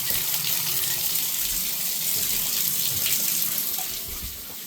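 Water runs steadily from a swan-shaped faucet into a sink, a continuous hissing splash close by that tapers off slightly near the end, with no talking.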